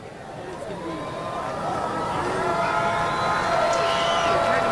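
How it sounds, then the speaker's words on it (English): Crowd at a baseball stadium cheers for batter Pomaris, a broad roar of shouts and whoops that swells steadily louder, heard from a distance. "And the crowd gets behind Pomaris."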